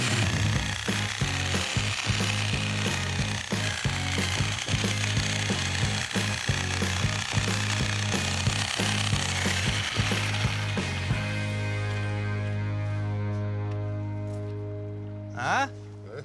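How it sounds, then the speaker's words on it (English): A Sawzall reciprocating saw cuts a wooden stump flat at a cliffside deck build, a loud rapid buzzing rattle with rhythmic knocks running for about eleven seconds before winding down to a fading hum. "If you can grab a Sawzall, we'll make it more flat"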